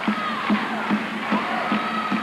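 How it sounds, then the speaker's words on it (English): A volleyball crowd stands and claps in an arena during a 1998 men's college match at a coliseum, a steady wash of applause with periodic rhythmic accents about every half second, no talk. "Now the crowd on their feet, clapping, looking for the icer."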